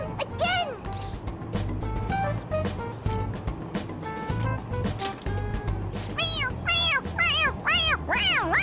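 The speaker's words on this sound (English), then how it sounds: "It meows when you press on its head." In Persona 5 Royal, a toy cat gives a series of rising, wavering meows each time its head is pressed, several in quick succession and growing more frequent, over background game music and sound effects.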